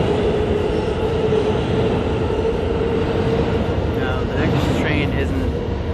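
An NYC subway Q train made of R160 cars arrives with a loud, steady rolling rumble of wheels on track, and faint squeals rise briefly near the end.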